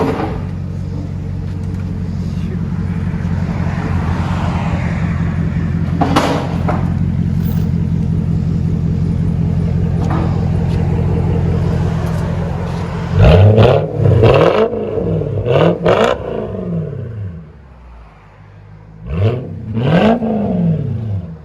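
A 1995 Lexus SC 400 with a true dual exhaust, dual X-pipe and straight pipes idles with a loud, steady rumble. Several sharp revs follow, each one swelling and then falling away, close by.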